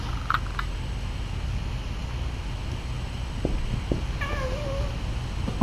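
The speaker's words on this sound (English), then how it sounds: "that's a ferocious kitten right there." A tiny kitten gives a short, thin meow, fairly faint against steady wind-like background noise, with a few soft taps before it.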